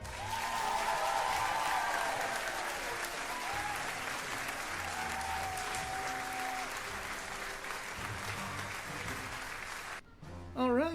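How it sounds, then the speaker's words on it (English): A room of people gives a round of applause at a tabletop roleplaying session, sustained clapping that stays fairly distant and even for about ten seconds before cutting off. "Let's give a round of our applause for our volunteer Watcher of the Fey Realms."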